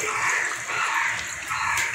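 Water poured from a vessel into meat cooking in a pot, a steady loud splashing gush that swells and eases in two waves with no voices over it.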